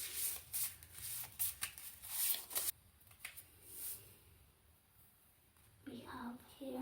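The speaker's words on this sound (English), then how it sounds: "Let's mix them up, shuffle them a little bit." Playing cards riffled and mixed during a pick-a-card reading, a run of quick papery bursts in the first few seconds, then quieter handling with soft sounds near the end.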